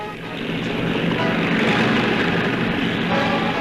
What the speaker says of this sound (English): It's what you might call a personal helicopter, and it evidently works.